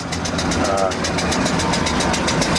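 A steam engine, roughly 150 to 180 horsepower in size, runs steadily at an outdoor steam fair, its rhythmic chuffing and mechanical thrum continuous and close under someone talking.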